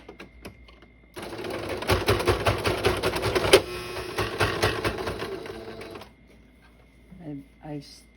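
A sewing machine runs a steady straight stitch, twice over for strength, through fabric for a nurse's scrub cap. The loud, fast mechanical whirring lasts about five seconds, then stops, followed by softer handling sounds and a brief voice.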